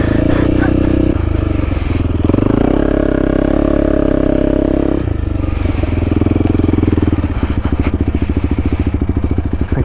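A Honda CRF300L dirt bike rides hard off-road, its single-cylinder engine loud and close, revving up and easing off repeatedly, with a rapid chugging pulse and some clattering over rough ground.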